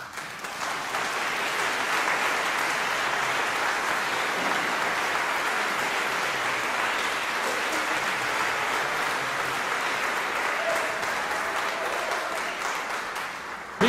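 A concert audience applauds a tenor's solo performance with a male vocal ensemble, steady and dense clapping sustained throughout, with no talking.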